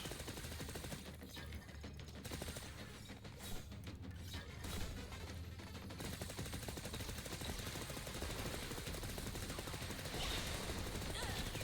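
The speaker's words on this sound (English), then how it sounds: "Machine gun, yes." Dense machine-gun fire in a video game, a continuous rattling stream of rapid shots with mechanical clatter, loud and unbroken throughout.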